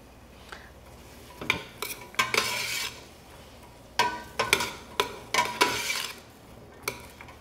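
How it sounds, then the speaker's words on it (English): Onions sweat in a pan for a summer squash ratatouille, a faint sizzle under bursts of a spoon scraping and knocking against the pan as they are stirred, close up with no talking. "you're just gonna sweat these onions out for it to release a little bit of its juices."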